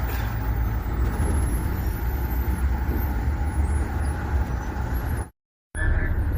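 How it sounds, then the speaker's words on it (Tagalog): Highway traffic rumbles steadily with trucks and buses passing near a burning car, a loud continuous engine and road roar with a faint air-brake hiss, cut briefly by a short dropout before resuming. "Traffic."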